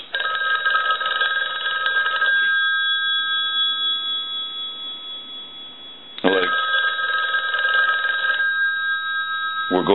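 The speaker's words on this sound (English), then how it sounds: "we want to go ahead and ring the telephone." A red Western Electric 2500 touch-tone desk telephone bell rings loudly in two long bursts, its metallic trill separated by a pause of lingering ring.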